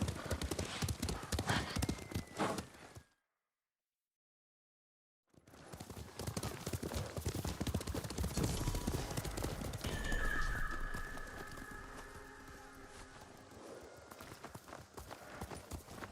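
Horses galloping in the samurai action game Ghost of Tsushima, loud rapid hoofbeats with a neigh, cutting out to silence for a couple of seconds, then resuming as a continuous thundering ride with a whinny and soft voices.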